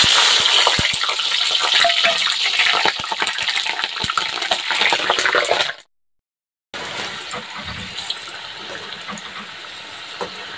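Whole green chillies deep-frying in already hot oil: a loud, steady sizzle and crackle with popping bursts, cut by a second of silence before the quieter frying resumes.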